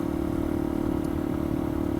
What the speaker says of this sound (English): you're always going to get popping on deceleration and closed throttle because it's putting air into the exhaust